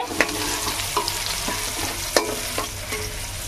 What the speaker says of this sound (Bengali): তো মাছগুলো আগে ভেজে নিই।